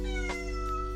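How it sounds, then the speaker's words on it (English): Pet cat meowing once, a short clear meow near the mic over a steady electronic hum, with a fainter second mew just after. "That's my cat Toka."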